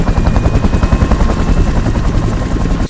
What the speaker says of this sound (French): Hélico, avion.